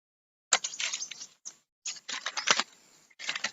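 Keys clack on a computer keyboard as a command is typed, quick runs of close, crisp keystrokes broken by short pauses, with no speech.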